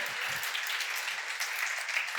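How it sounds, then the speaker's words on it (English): An audience claps in a steady, dense patter that runs unbroken through the whole stretch, moderately loud and close. "Now, you can clap for that."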